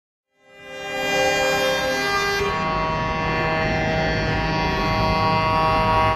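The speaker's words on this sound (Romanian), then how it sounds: "Aceștia au circulat cu viteze reduse, claxonând în semn de protest." Truck horns blare continuously during a haulers' protest on the Oradea ring road, with several loud sustained horn tones overlapping as vehicles roll slowly, holding steady for the whole stretch without talk.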